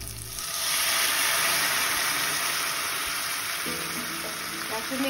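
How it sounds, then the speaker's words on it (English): Water poured into a hot pan for steamed fish hisses and sizzles loudly, a broad steady roar of frying that starts abruptly and holds, with faint clinks near the end. "Then pour in some of the water."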